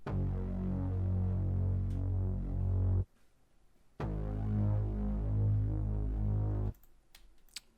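Thick, droning Reese bass synth patch from FL Studio, played without fast distortion, sustaining a steady throbbing tone in two long notes separated by a brief gap, with faint clicks at the end.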